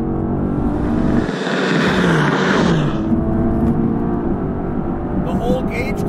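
A 2020 Mercedes-AMG GT C engine revving hard through rapid gear shifts, a loud continuous roar heard from inside the cabin with rising and dropping pitch at each shift.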